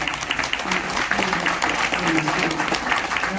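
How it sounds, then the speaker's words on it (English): An audience at a DeKalb County Board of Commissioners meeting applauds the commissioners: a dense, steady wash of clapping that lasts throughout, with voices mixed in. "So let's give our Board of Commissioners a round of applause."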